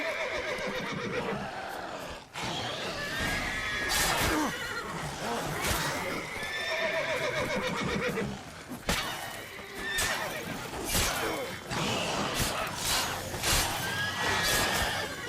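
Horse in The Witcher 3 neighs and whinnies repeatedly amid combat game sounds, with clip-clop hoofbeats, loud and close throughout.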